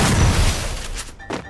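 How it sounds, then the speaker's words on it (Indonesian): A video game explosion goes off as a loud, broad blast up front, decaying over about a second, with a second short burst near the end. "Meledak."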